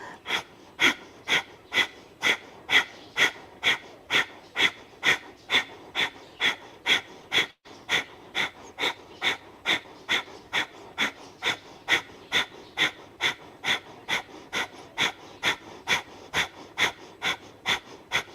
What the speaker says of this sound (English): this is called the Breath of Fire